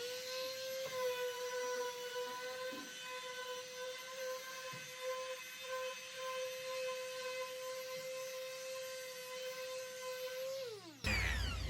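An electric sanding machine used on putty and polish runs at a steady high-pitched whine with a constant tone, then winds down sharply at the end as it is switched off.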